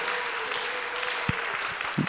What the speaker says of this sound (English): is the clapping because we're over, or because you liked what you saw?